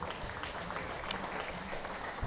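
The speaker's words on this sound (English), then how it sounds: "The crowd decides it's worthy of an applause as well" A crowd at a Kent versus Hampshire cricket match gives a brief, scattered ripple of applause that carries from a distance across the ground, soft and diffuse.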